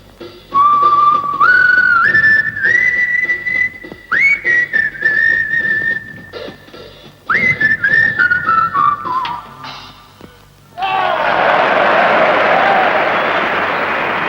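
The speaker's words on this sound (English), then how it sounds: "he whistled a little tune" A man whistles a little tune alone, bright rising and sliding notes in short phrases with pauses, followed by a burst of applause from a crowd.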